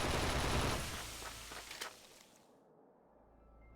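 Gunfire from the video game The 3rd Birthday, a dense burst of rapid automatic shots up close that fades away over the first couple of seconds, leaving near silence.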